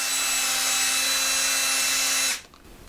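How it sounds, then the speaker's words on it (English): A power drill spins a scouring pad against a bolt on a car's 4AGE engine valve cover, a loud steady whine with harsh scrubbing that stops sharply near the end, leaving quiet. "I put it on my drill with a bolt in my drill. Get some scouring pad and just blast it."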